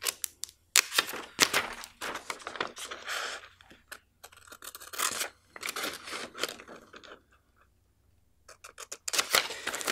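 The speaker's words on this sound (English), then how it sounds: "Once again, just cutting along that solid line there." Scissors cutting a paper spectroscope template in one piece along a solid line, giving close, irregular bursts of snipping and rustling with short pauses between them.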